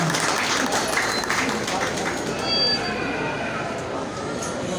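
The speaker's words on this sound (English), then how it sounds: "Another round of applause, please," Crowd applause for a Secretary at the opening of an art festival, a dense wash of clapping that runs steadily throughout, with voices mixed in underneath.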